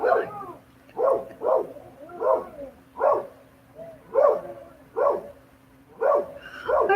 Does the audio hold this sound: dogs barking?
yes